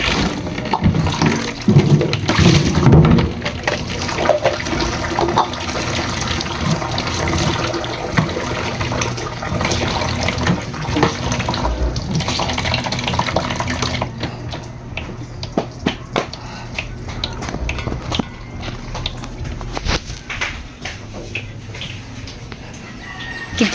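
Water rushes steadily into a washing machine drum during laundry at home, a loud continuous gushing that fills most of the stretch, with bird and rooster sounds faintly in the background.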